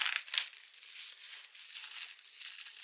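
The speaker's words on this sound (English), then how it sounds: "now I have to pull out plastic." Plastic packaging is pulled out and crinkles softly up close, a steady faint rustle with a few sharper crackles near the start.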